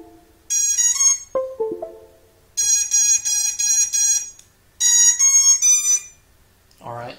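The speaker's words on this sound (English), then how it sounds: "Now when I flip my beeper switch, there you go." Drone ESC beeper sounding as a DSHOT beacon set up in BetaFlight 3.2, giving three loud bursts of rapid high pitched beeping separated by short pauses, close by, with a brief lower sound between the first bursts.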